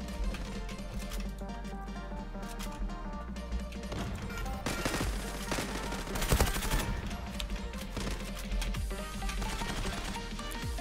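Suppressed gunfire from a Redwolf silencer in a video game cracks out in repeated rapid bursts of sharp shots over a busy background of game effects, with louder volleys in the middle.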